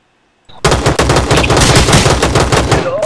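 Sustained automatic gunfire in Rules of Survival, a mobile battle royale game, bursting in after a brief silence as a loud, dense rattle of rapid shots continuing without pause.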